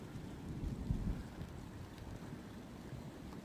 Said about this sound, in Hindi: बारिश माशाल्लाह लग चुकी है